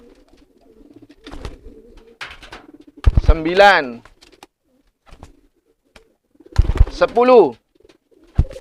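Pigeons coo repeatedly in two loud, close bursts amid quieter coos, during physical training of homing pigeons; a man counts aloud in between.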